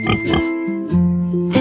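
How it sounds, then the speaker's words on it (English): Pig oinking in a children's song, short grunting oinks close and loud over a tonal musical backing, with a sung or spoken voice at the start. "This is a pig."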